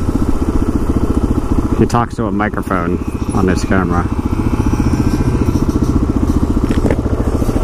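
Motorcycle engine idling and running steadily in city traffic near Gates Pass, a continuous close low rumble throughout with someone talking over it.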